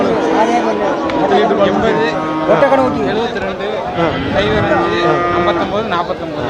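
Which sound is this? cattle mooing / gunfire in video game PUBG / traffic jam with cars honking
cattle mooing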